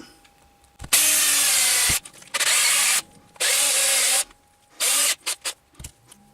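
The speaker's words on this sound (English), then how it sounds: "I'll drill out a hole in both of them the same size" Several loud bursts of a power drill boring holes, each lasting about a second, separated by short pauses and a few brief taps near the end.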